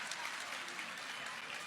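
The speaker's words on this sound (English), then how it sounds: "give a bro a round of applause." Steady applause from a group fills the whole moment, an even wash of clapping with no pauses.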